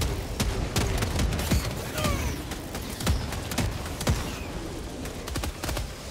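In Helldivers 2, a deployed cannon sentry fires in a steady run of sharp, heavy booms amid other battlefield gunfire and impacts, close and loud with irregular spacing.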